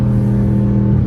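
A 2021 Dodge Durango R/T with a straight-pipe exhaust revs hard on a downshift, a loud, close, steady engine roar with dense low harmonics filling the whole moment, no voices over it.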